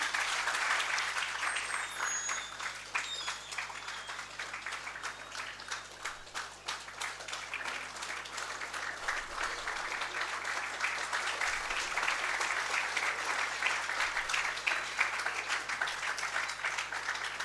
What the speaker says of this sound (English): I think we can all applaud them by standing.